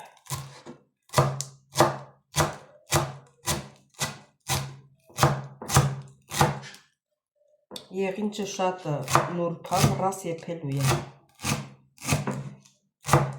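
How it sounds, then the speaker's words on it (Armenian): A knife chops coriander on a cutting board in a home kitchen, with steady, rhythmic close-up thuds. After a short pause the chopping resumes more quickly while someone talks over it. "մի քիչ համեմ ունեի գինձը, պիտի կտրտեմ"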